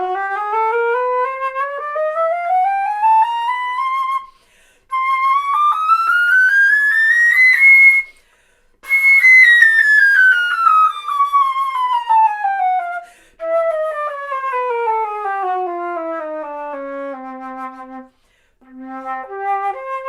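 An Altus Azumi AZ1 flute plays a chromatic scale, a clear solo tone climbing step by step into the high register, then descending back to the low notes with brief breath pauses between phrases.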